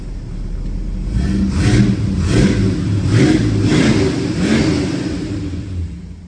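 A 1970 Ford Torino GT with a 429 V8 revs up in several rising and falling blips over a deep idle rumble, loud and close, with no talking.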